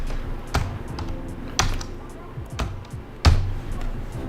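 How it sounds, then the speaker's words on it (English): Numbers keyed into a calculator on a computer keyboard, a few distinct, sharp key taps spaced about a second apart, close by and moderately loud, with a low background murmur. "so I'm gonna type that in up here"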